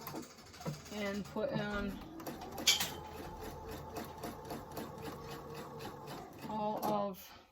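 A domestic sewing machine chain-pieces quilt pieces at a quarter-inch seam with a rapid, rhythmic mechanical stitching hum in short runs. Someone talks over and between the runs.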